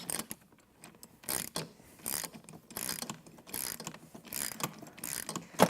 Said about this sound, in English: then I'm going to tighten the nylock bolt